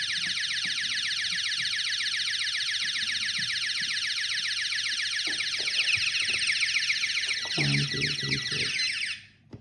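A Texecom intrusion alarm system sounds a zone alarm, a loud, continuous high-pitched electronic warble that runs steadily for most of the stretch before cutting off abruptly near the end, with faint clicks and handling noise beneath.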